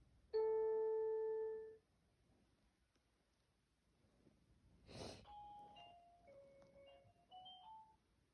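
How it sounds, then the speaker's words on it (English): A home doorbell rings once with a sustained electronic chime tone, then after a short pause a sharp noise is followed by a short descending-and-rising electronic melody of several notes, quiet and close. "I literally had a doorbell that literally just sounded like this"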